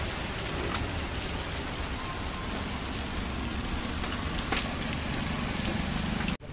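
Large hailstones falling steadily on the ground in Faridabad, a dense, continuous hiss and patter of impacts with a few sharper hits, no talking.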